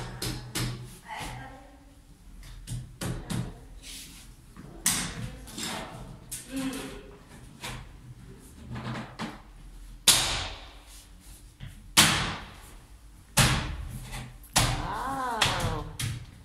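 A door is repeatedly opened and banged shut, sharp knocks and slams recurring every second or two, with people talking intermittently.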